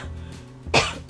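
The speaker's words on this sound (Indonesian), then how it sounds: "maaf agak batuk." A single sharp cough bursts out close to the microphone after a quiet moment, short and throaty.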